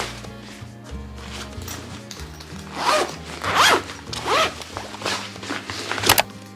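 A zipper being pulled open on a vintage-style shoulder bag, heard close and loud as several quick rasping pulls that speed up in the second half, with no talk.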